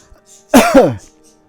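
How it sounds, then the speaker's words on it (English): One loud, close cough or throat-clearing burst with a strained, voiced edge, alone against quiet background hum. "Here I go again, coughing, sneezing, choking"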